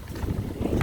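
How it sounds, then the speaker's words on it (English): Wind blowing outdoors, buffeting the microphone as a steady, rumbling gusty roar that fills the whole moment without any voices. "it's a little windy out here today"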